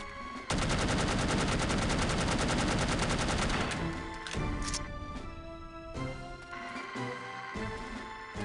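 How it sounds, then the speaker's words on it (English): Rapid gunfire from the video game The Operative: No One Lives Forever, loud and dense in a sustained burst for several seconds, then thinning into scattered shots and game sounds with no talking. "it's always been possible to shoot locks"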